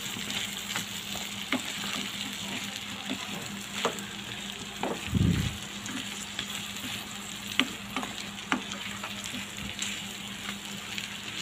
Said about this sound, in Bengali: এখন মশলার সাথে আমি আমগুলোকে ভালো করে মিশিয়ে নিব।